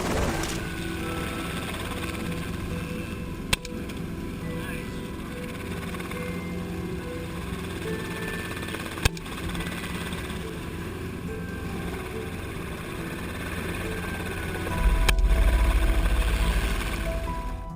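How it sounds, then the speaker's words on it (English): A helicopter flying over farmland during a wild boar hunt gives off a steady, continuous engine roar and rotor drone, broken by a few sharp clicks and a louder rumble near the end. "the sound of the helicopter engine roars"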